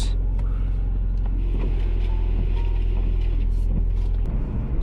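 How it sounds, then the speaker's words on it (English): Steady low engine and road rumble from inside a Toyota Matrix XRS driving on a road, a constant close drone with faint ticks and rattles on top. "So we're gonna be driving down the same route that we did before."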